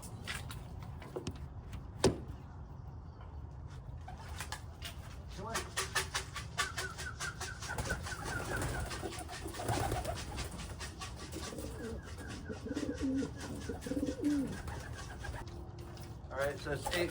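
White homing pigeons coo and shuffle at the loft as they return, with wing flutters and a sharp knock or door sound, while someone talks quietly nearby.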